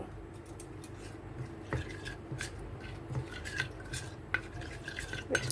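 Batter of flour and white oil being stirred in a bowl for egg paratha, a steady soft scraping with a few louder clinks of the utensil against the bowl, close and alone.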